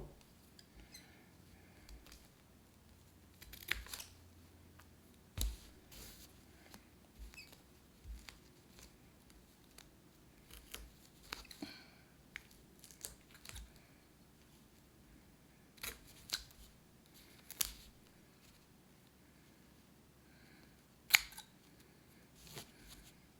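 Scissors trimming office supplies for a homemade respirator mask, heard as faint, sparse snips and small rustles at close range in a quiet room.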